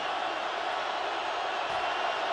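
Stadium crowd roar at an NFL football game between the Titans and Seahawks, a steady broad rumble of many voices, distant and sustained without pause.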